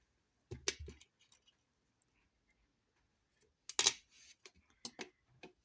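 Scissors cutting off the cord ends of a macramé bracelet, two quiet separate snips with faint handling noise in between, close and soft.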